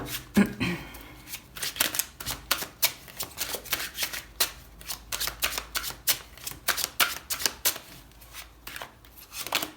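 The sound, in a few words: tarot cards being shuffled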